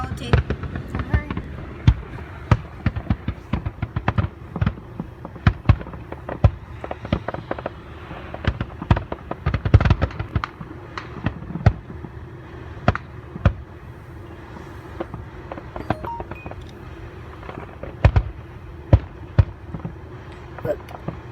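Fourth of July fireworks pop and crackle in dense, irregular bursts that build toward a finale, some sharp and loud, others more distant, while people talk intermittently throughout.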